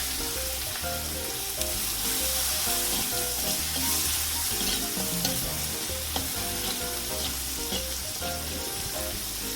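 Finely chopped onion frying in a pan for a garlic spinach dish, a loud continuous sizzle with occasional stirring, close and steady and free of talk.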